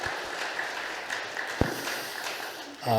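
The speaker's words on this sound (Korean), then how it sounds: "그렇게 하실 우리 주님께 박수로 감사드리겠습니다" A church congregation claps at a Sunday service, a diffuse patter of applause that runs steadily and fairly quietly, with a voice starting up near the end.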